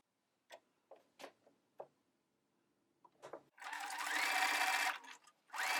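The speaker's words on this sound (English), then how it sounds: "I'm just going to straight stitch this first with the standard presser foot." A sewing machine with a standard presser foot runs a straight stitch along a narrow hem, starting with a few short clicks and taps before settling into a steady, close whirring hum that stops and restarts.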